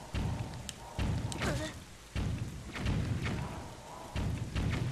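Repeated heavy thuds of cannon bombs land about once a second in The Legend of Zelda: The Wind Waker HD, each a loud booming impact with scattered crackle, over a faint steady hum.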